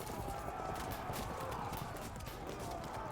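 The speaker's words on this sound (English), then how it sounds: "they're dedicating a lot of horse archers just to chase our units that are rallying" Horse archers gallop in the strategy video game Field of Glory 2, a steady, dense clatter of many hooves at moderate distance, continuous with a faint neigh and a low murmur of voices under it.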